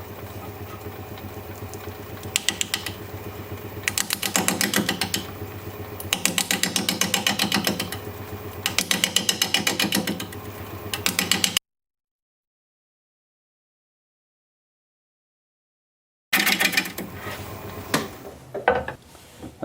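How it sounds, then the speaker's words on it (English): A wood lathe spins an out-of-balance sassafras blank at 475 RPM, a steady motor hum broken by rhythmic bursts of tool chatter and scraping, then a gap of silence before the cutting resumes briefly. "The lathe is going to be spinning at 475 RPM because of course it's out of balance."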